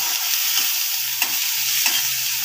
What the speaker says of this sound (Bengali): পেঁয়াজের জলটা মরে যাওয়া পর্যন্ত একটু ভেজে নেব